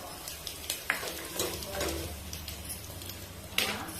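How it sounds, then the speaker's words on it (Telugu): Dried red chillies frying in hot oil for tomato rasam, a steady close sizzle with occasional stirring scrapes and a few sharper pops, no talking. "ఎండుమిర్చి వేసుకుందాం"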